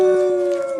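A person imitates a howl during a Dungeons and Dragons tabletop game, a single sustained, loud, close wavering vocal tone that holds steady and fades slightly at the end.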